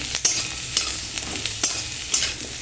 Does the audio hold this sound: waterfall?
no